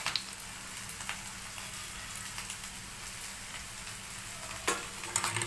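Egg and soy sauce sizzle in a pan for egg fried rice, a close, steady crackling fry with occasional scraping stir clatters and no talking.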